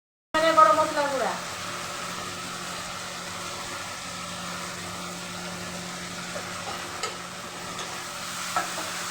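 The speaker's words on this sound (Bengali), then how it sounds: "মশলাটা বেশ 5 মিনিট মতো কষিয়ে নেব" A spice paste for goat keema is fried and stirred in a pan with a steady low sizzle, after a sharp initial hiss as it hits the hot oil, with occasional soft scrapes of the spoon.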